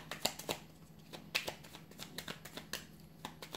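Oracle cards are shuffled and drawn, a close run of quick papery flicks and snaps in an uneven rhythm, with no talking.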